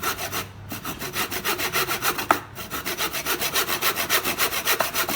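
A hand saw cuts through wood in steady, rhythmic back-and-forth strokes, close and continuous, with a brief pause partway through.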